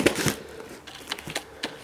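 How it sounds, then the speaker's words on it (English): Scissors jab and scrape into plastic packaging around a Yamaha KX 580 cassette machine, a few sharp crinkling stabs and rustles up close. "I'm going to attempt to stab this with scissors"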